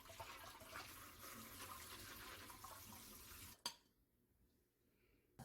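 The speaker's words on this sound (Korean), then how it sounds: "흐르는 물에 깨끗하게 헹궈줍니다." Bean sprouts rinsed under a running kitchen tap, a steady rush of water for several seconds that stops abruptly with a clunk, leaving near silence.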